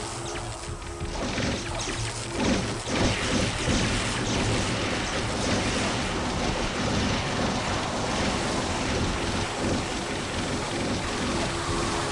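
Natural Rain spell in the strategy game Dominions 6 brings heavy, steady rainfall, a dense loud roar of water that fills the whole stretch without pause or voices.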